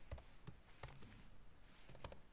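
Sparse, crisp clicks from a computer keyboard as printf is typed into C code, a few quick keystrokes in small clusters, close and fairly quiet.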